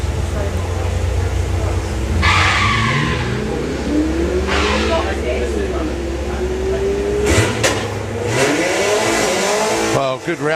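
Cars at a Bug Jam drag strip, one an Audi, launch and rev hard with rising and falling engine sweeps and tyre noise, loud and continuous, with a commentator's voice over the action.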